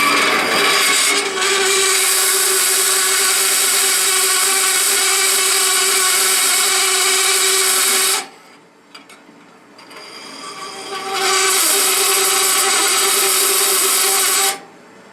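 A Sears saw fitted with a slow-speed converter cutting quarter-inch cold-rolled steel, a loud harsh chattering whine with heavy vibration, running steadily, stopping briefly, then resuming before cutting off.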